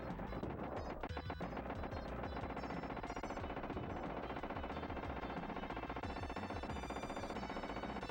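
Continuous rapid arcade gunfire from T2 The Arcade Game on the SNES, dense and steady throughout alongside loud game music, with no pauses.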